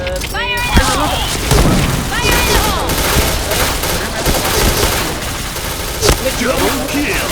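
Grenade blast and gunfire in a competitive first-person shooter match on the Sandstorm map, with dense continuous shooting and bursts throughout, a heavy boom near the start and sharp hits later, under voices and game announcements.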